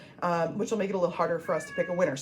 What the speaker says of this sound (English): my cat, if you can hear her meowing